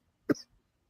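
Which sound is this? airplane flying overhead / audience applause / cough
cough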